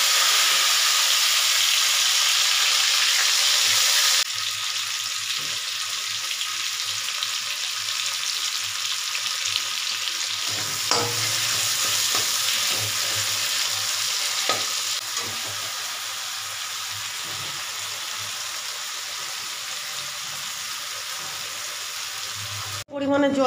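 Spice paste with tomato sizzling and frying in oil for a tangra fish curry, a steady broadband hiss running throughout with occasional stirring scrapes and clinks, close and fairly loud, with no talking.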